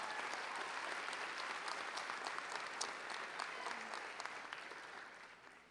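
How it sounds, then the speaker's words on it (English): Graduation crowd applauding for everyone from the city of Poughkeepsie, a steady, dense wash of many hands clapping at moderate distance that holds evenly and then tapers slightly toward the end. "Let's give everybody from the city of Poughkeepsie a round of applause."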